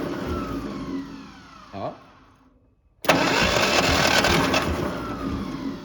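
A Ferguson TE-20 tractor engine, British-built, revving hard at full throttle, a dense loud roar that drops out briefly after a short rise and then surges back steady and strong, with a brief voice heard over it.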